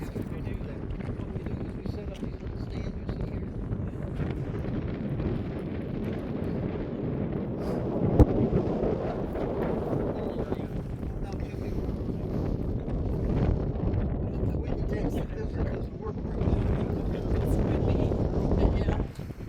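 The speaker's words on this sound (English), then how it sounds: "Very, very windy." Strong wind at about 6,500 feet altitude at the Crazy Horse Memorial roaring and buffeting the microphone in a continuous rumbling rush, with a voice faintly audible beneath it.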